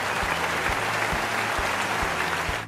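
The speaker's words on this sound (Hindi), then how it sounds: "चले थोड़ी सी तालियां कर दें।" A university audience breaks into sustained applause, a thick, even roar of many hands clapping at once. It carries on steadily without speech, with some faint rhythmic thumps underneath.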